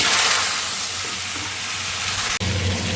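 Potato and pointed gourd frying in mustard oil with whole cumin in a wok, a loud, steady sizzle and hiss that breaks off for an instant near the end before resuming.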